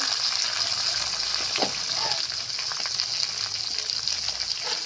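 Beans and potatoes sizzling in a pan with salt, a continuous close frying crackle with a few soft stirring scrapes and no talking.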